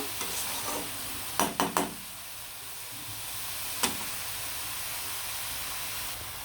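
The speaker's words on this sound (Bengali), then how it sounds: "লাল শাকটা কিন্তু খুব সুন্দরভাবে ভাজা ভাজা করে নিলাম" Red amaranth greens frying with onion and garlic in a pan give a steady hissing sizzle, with three quick spatula taps early on and one more later, close and fairly quiet.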